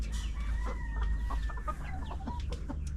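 Several chickens cluck and chatter close by in a coop, with short calls overlapping over a steady low hum and rustling background.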